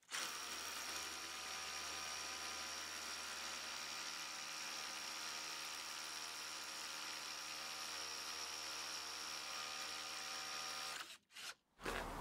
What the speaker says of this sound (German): mit dem 8er Bohrer in Beton überhaupt gar kein Problem